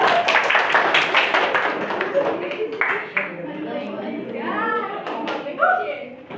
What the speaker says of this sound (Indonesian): Ya, tepuk tangan untuk kelompok 2.